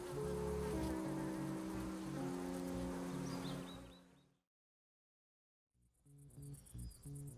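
Bees hum and buzz densely around their hives, a close, loud droning swarm that cuts out abruptly to silence before the buzzing returns more thinly.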